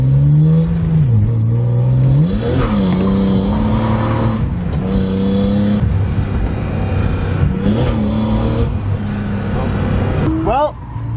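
A BMW E36 drift car's engine revs and climbs repeatedly, the exhaust note rising and falling loudly and continuously while people talk over it.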